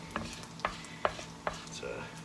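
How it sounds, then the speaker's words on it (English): Crispy browned pancetta crackles faintly in a pan while being lifted out with a slotted spoon, giving a few evenly spaced soft scrapes and taps over a low background sizzle. "this pancetta is looking brown and crispy, so I'm going to take it out of this pan with this convenient slide spoon"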